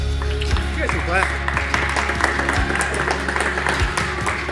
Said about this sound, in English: You guys are clapping.